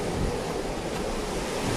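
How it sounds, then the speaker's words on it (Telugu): Sea waves wash steadily onto Pakala beach, a constant loud roar of surf mixed with wind buffeting the microphone, with no voices. "అలలు వస్తుంది కదా"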